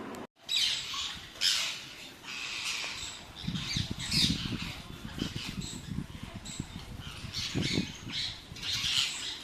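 Parrots squawk repeatedly in harsh bursts, several birds calling at once from a moderate distance, with rustling and faint chirps between calls.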